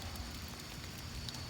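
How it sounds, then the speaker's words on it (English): Rain falling fairly heavily on a soggy, marsh-like yard during a September thunderstorm, a dense, even hiss lasting a moment with no voices. "Cause it is kind of raining pretty good now."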